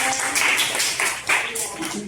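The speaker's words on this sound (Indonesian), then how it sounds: "Tepuk tangan untuk Ismail." Students in a classroom clap in short, uneven bursts, fairly close, with voices speaking between and over the claps.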